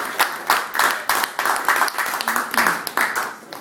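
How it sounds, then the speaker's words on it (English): Audience applause at a Labour councillor's event, made of sparse, distinct handclaps in uneven bursts from a small group, fairly close. "Give them a round of applause."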